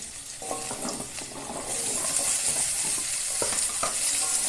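Potatoes and freshly added vegetable stems fry and get stirred in a pan for a rohu fish curry, with a steady sizzle beneath scraping and clinking of a utensil against the metal, growing louder midway.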